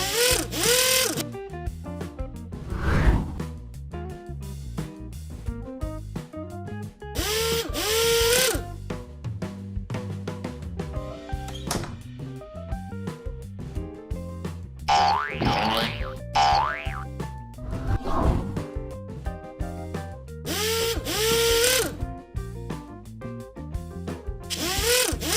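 Cartoon tools unscrew and pull the wheels off a monster truck in a lively animated scene, with springy boing effects, whirring drill-like buzzes and rapid mechanical rattles repeating over steady background music.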